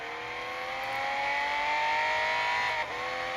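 Race car engine in Endurance GT Racing at Circuit of The Americas, a steady loud high-revving drone heard from the bumper view, pitch holding and then dipping briefly near the end as the car shifts.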